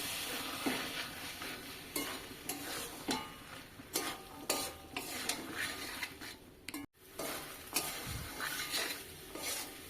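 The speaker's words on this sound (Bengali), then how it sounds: "এবার সেদ্ধ করা মটর মশলার মধ্যে দিয়ে দিলাম। ভালোভাবে কষিয়ে নিচ্ছি।" Boiled peas are stirred into a spice masala for ghugni, with a low sizzle under a spoon scraping the pan in a run of sharp, irregular clicks and scrapes.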